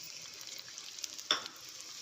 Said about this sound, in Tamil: இப்போது இந்த முந்திரி நல்லா ஃப்ரை ஆகிடுது